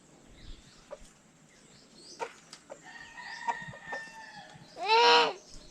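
On a farm, chickens cluck softly and intermittently at close range before a rooster lets out one loud, drawn-out crow near the end.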